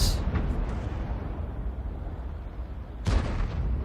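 A tank cannon fires in a tank battle video game, two heavy booming blasts, one early and one near the end, over a constant low engine rumble.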